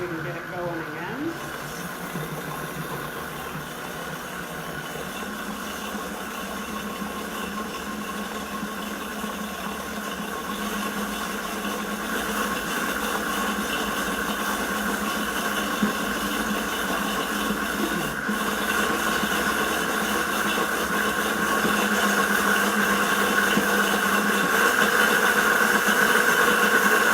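A kitchen blender whirs steadily for the whole stretch, grinding chia seeds into lemon blueberry muffin batter, its motor hum rising slightly in pitch and loudness as it is cranked up, with a voice talking over it.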